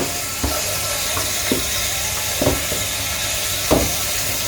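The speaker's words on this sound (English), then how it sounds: "Hear that sizzle." Marinated oxtail pieces browning in a hot pot: a continuous close sizzle and hiss of frying meat, punctuated by a few soft knocks and clatters as pieces are placed and moved.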